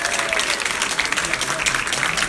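Audience applause at a Paris event, a dense, steady wash of many hands clapping at close range for just over two seconds, with a faint murmur of the crowd underneath.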